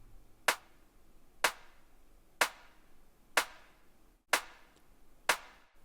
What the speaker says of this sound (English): I've sent these claps to some short reverb together, nice and cohesive, and make it more atmospheric.